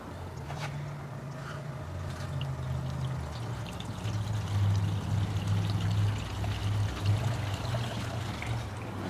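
POR15 metal prep is poured into a small measuring cup, a soft steady trickling stream with a low gurgle that swells slightly partway through, heard faint and close with no talking.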